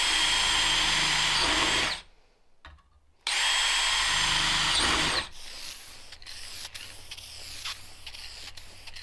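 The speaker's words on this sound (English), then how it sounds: "where I'm going to drill little holes so I can put in the tack welds" A loud power drill whines steadily while drilling small holes in a metal frame for tack welds, cuts out briefly, then resumes; it drops to a lower running hum punctuated by sharp metallic clicks.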